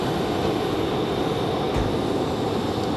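Aer Lingus airliner at Raleigh Durham International Airport, a steady distant broadband jet roar with a faint low thump partway through, no voices.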